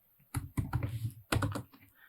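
Computer keyboard keys pressed for Shift and Enter, a few close clacks in two short clusters, alone in a quiet room.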